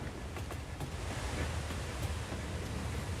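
A steady, broadband rush of falling water from a waterfall in a factory-building video game, continuous and moderately loud with no voices over it.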